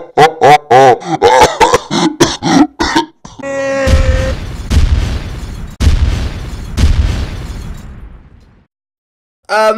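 A rocket launcher blast in NBA 2K16 strikes once near the four-second mark with a loud, broad boom, and a second heavy blast follows close behind. Excited voices shout and laugh before the first blast.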